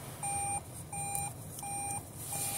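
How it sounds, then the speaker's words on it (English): Electronic beeps repeating at an even pace, four short clean tones in steady rhythm over faint room hum, with no talk. "Never mind the beep."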